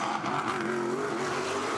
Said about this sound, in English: These are big cars. They are big cars, and they've got a lot of power